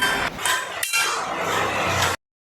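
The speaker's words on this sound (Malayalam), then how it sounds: "കറക്റ്റ് ഒരു പോയിന്റിൽ വെച്ചിട്ട് ഒറ്റ തട്ടിന് അത് പൊട്ടും." A layer of 8mm glass is tapped so that it cracks, giving bright clinking, crackling bursts with a short pause in the middle, then sudden silence.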